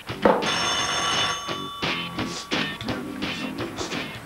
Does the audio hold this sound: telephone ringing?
yes